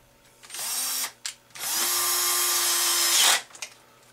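A power drill whirs in two bursts, a short one then a longer sustained run, driving screws into the top front plate of a Turtle Racing Baja 5T RC car, close and loud with no talk.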